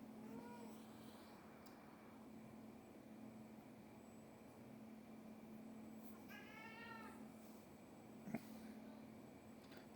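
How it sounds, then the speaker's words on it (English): A pet cat meows twice from the background, faint and separated by several seconds, over a steady low electrical hum in a quiet room. "That's my cat in the background."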